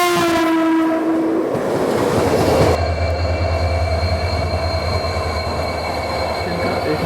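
Rajya Rani Express passenger train (17611, Nanded to Mumbai) heard from inside a 3 AC coach: a long horn blast opens, then steady loud rumble of wheels and carriage running on the rails with metallic squeal, no talking.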